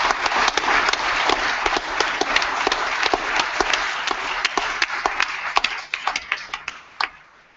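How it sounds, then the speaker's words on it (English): Audience applause at the close of an afternoon workshop session, a steady wash of many hands clapping that thins into scattered, separate claps near the end, with no talking over it. "Should we applaud?"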